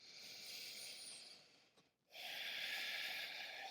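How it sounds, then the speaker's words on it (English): Ujjayi breathing during a yoga practice: a close, steady, hissing breath that softens for a moment near the middle, then returns as a fuller, stronger stream of air. "Switching on your Ujjayi breath."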